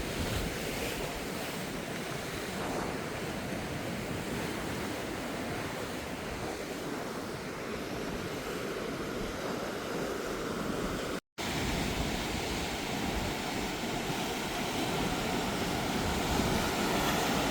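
Sea waves on a Portuguese beach roar steadily in a broad, continuous wash of surf, with wind buffeting the microphone throughout and a brief cut near the end.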